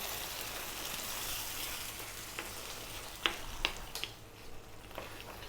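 Meatballs simmer in tomato sauce with a constant soft sizzle and bubbling, joined near the end by a few sharp scraping knocks from a spoon stirring the pan.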